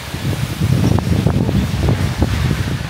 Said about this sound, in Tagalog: Nalakas ang hangin, tapos umuulan.